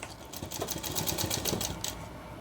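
A sewing machine stitches a seam on a shirt in one continuous run, its rapid needle clatter close and steady throughout, with no voices.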